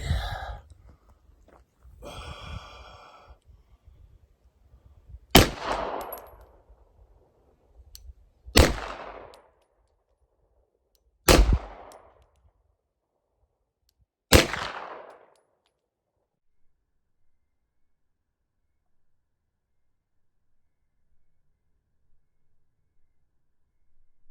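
An Inglis Hi Power clone pistol fires four sharp, loud shots spaced a few seconds apart outdoors, each with a brief ringing decay, followed by near silence.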